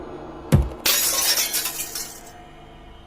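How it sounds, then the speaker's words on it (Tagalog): Window glass shattering in a horror story, a sharp thump followed by a loud burst of breaking glass that tinkles and fades over about two seconds, with a second knock at the end. "isang malakas na tunog ng pagkalabog ang narinig namin."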